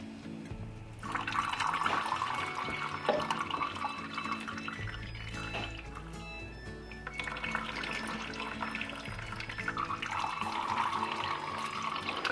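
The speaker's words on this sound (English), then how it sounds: "I need to give everything in here a really good water" Water pours steadily from a watering can onto indoor houseplants in a living room, a continuous close splashing and trickling with no talk.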